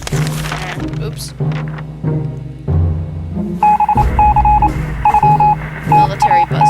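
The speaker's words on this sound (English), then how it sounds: "Another military announcement on the radio." Military radio announcement in the survival video game 60 Seconds, a crackly broadcast of electronic buzzes and beeping tones. A low murmuring voice comes first, then a steady run of repeated beeps and bursts.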